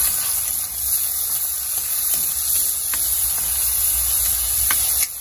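Shrimp paste sizzles in hot oil with garlic and onion, a steady bright frying hiss with faint crackles and pops throughout, close and continuous with no talking.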